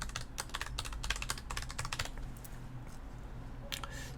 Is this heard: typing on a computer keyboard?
yes